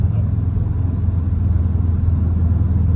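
A 2010 Subaru STI engine on a tuning pull, a steady, dense low rumble with slight pulsing as it runs under light boost, loud and continuous throughout with no voices over it.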